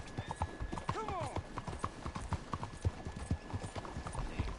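Galloping horse hooves in Red Dead Redemption 2, a steady rapid clip-clop rhythm close and loud, with a brief whinny early on and a voice talking over it.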